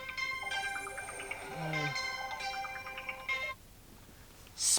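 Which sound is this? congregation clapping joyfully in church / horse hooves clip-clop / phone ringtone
phone ringtone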